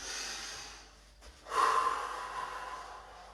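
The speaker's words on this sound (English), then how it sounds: "Take some nice deep breaths" A deep inhale followed by a long, audible exhale after exercise in a strength and balance class for older adults, close and moderately loud with no speech.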